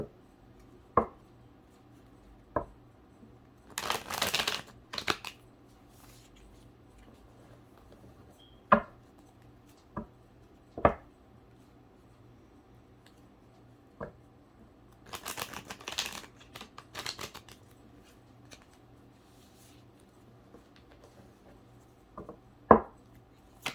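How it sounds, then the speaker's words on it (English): Tarot cards shuffle in two quick riffling bursts between sharp isolated taps of cards against a surface, close and fairly quiet in a still room. "Let me shuffle real quick"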